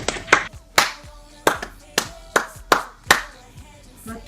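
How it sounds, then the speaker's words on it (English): Hand clapping in a room, about eight sharp separate claps with uneven gaps between them, loud and close, with a faint background murmur. "That was clapping."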